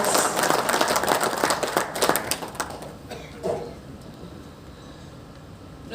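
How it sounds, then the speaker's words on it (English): Audience applause at an awards ceremony, a dense burst of many hands clapping that is loud at first, then thins and fades after about three seconds into scattered claps and room noise. "Huge round of applause."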